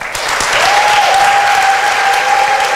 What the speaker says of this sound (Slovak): myslím si, že Tamáš by si zaslúžil jeden veľký potlesk